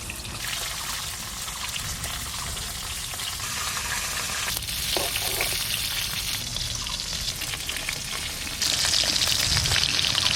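Koi fish fries lightly in a pan with a continuous, dense sizzle and spatter that grows somewhat louder toward the end, with no talking.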